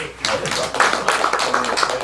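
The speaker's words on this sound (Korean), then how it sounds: "박수 한번 쳐줍시다" Clapping from a small audience at a Korean Buddhist meditation question-and-answer session, a short burst of hand claps that starts abruptly and continues steadily for about two seconds.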